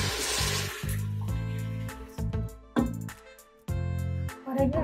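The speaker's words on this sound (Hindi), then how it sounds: "ये जो फलियों के ऊपर छिलके हैं वो थोड़े सख्त है, इसमें 1 कप पानी डालूंगी मैं।" Water from a cup is poured into a pot of tough-skinned green beans for a curry, a few short, close splashing bursts separated by brief gaps.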